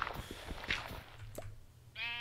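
A few soft clicks and thuds, then a single clear sheep bleat at the end in Minecraft, nearby and fairly loud.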